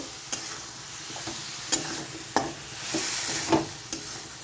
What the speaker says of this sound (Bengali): এবারে পেঁয়াজটা দিয়েও কিছুক্ষণ আমি নেড়ে চেড়ে নেব।